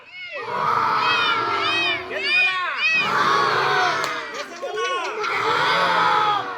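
A group of children loudly imitate a lion's roar in a classroom story-acting activity, with repeated shouted growling bursts from several voices overlapping in a crowd-like din.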